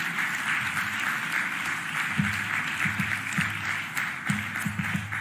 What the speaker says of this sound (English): Please give a round of applause for maritime shipbuilding right here in our city.